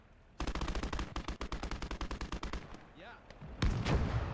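A Dushka heavy machine gun fires in the Gates of Hell video game, a long rapid burst of steady, evenly spaced loud shots lasting about two seconds, followed by quieter battle noise and a final heavy blast.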